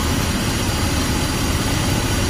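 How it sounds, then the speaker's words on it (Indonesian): A Toyota Cressida engine idles with the air conditioning running, a steady, even broadband hum and rumble heard close, with no talk over it. "Nah ini mesin dalam keadaan AC hidup"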